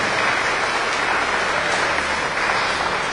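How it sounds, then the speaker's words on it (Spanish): Steady applause for a newly married couple at a family celebration in El Cortez, San Marcos, Guerrero: a dense, continuous wash of clapping at an even level throughout, with no voices breaking through. "Damos un aplauso, Pedro y Rocío, muchas felicidades."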